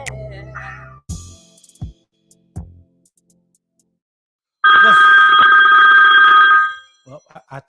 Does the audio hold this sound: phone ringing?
yes